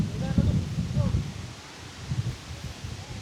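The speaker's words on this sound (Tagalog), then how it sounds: "Lakas ng hangin, man." Strong wind gusting at Cardiff Castle, buffeting the microphone in low rumbling waves with a faint rustle of leaves, while people talk nearby.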